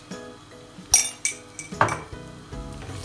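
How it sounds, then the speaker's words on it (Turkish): Metal spoon scraping and clinking against a pot while lentil soup ingredients are sautéed, with several sharp clanks and stirring scrapes over a low sizzle, close and moderately loud. "Kavuruyorum."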